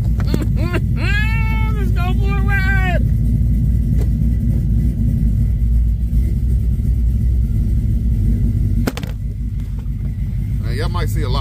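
A pickup with an LS swap and long tube headers drives off, its deep, loud engine rumble steady throughout, with a short tonal whine early on and a shift in the exhaust note near the end.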